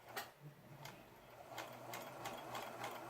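A serger stitching a beaded rolled hem gives a quiet, rapid mechanical whir with regular ticking, softly pulsing through the whole stretch, close by and with no talk.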